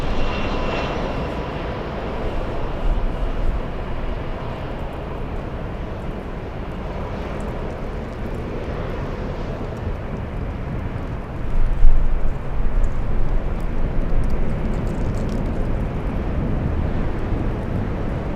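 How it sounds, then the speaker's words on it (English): An Airbus A380 taxis slowly at LAX, its engines producing a steady, broad roar that holds for the whole stretch with a slight swell partway through, no voices. "We have A380 taxiing at 10 knots."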